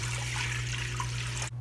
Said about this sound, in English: let's dump in this water into our pot.